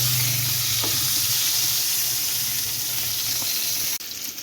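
Potatoes frying in oil left over from frying chicken give a steady, close broadband sizzle that holds evenly throughout, shifting slightly near the end, with no talking.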